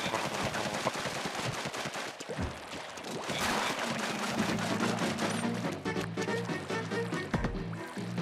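Rapid gunfire in Splatoon 2 rattles continuously and loudly throughout, dense bursts of shots layered over busy game sounds and music, with no voices.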